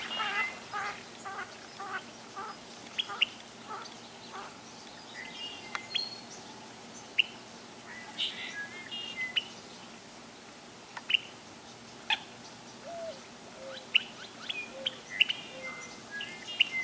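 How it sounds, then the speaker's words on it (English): Red-winged blackbirds call and sing outdoors, sharp chirps and trills scattered throughout, some near and some farther off, over a quiet steady background. "I think this is the sound of red-winged blackbirds."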